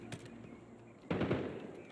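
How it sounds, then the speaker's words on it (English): Sniper fire in a first-person shooter game set in a Hardpoint mode, one sharp loud shot burst landing after a second of softer game noise. "Sniper shooting."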